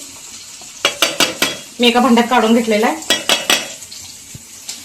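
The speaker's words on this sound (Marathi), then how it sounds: "तोपर्यंत इकडे मी मिरच्या पण भाजायला टाकले बघा, तेल टाकून।" Dried red chillies fry in oil in a kadhai, a soft sizzle broken by sharp clinks and scrapes of utensils, with a short stretch of talk in the middle.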